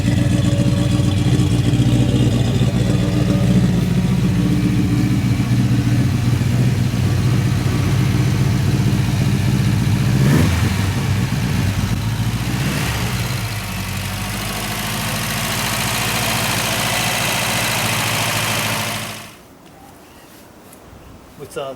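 Subaru Brumby engine fitted with a new muffler, a steady loud idle with a brief rev rising near the middle before settling, then cutting off abruptly near the end.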